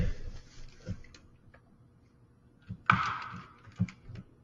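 Keys on a computer keyboard click in a few sparse, irregular taps, quiet and close by, with a sharper cluster of clacks near the end and no talking.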